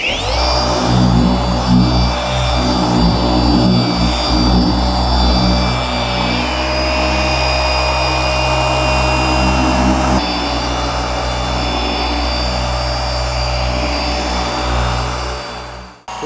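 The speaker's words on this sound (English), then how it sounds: "we're gonna polish at speed 4" A Rupes HLR21 battery polisher runs at speed 4 on a BMW X5, a loud steady whine with a constant low motor hum throughout, shifting slightly in tone partway before cutting off at the end.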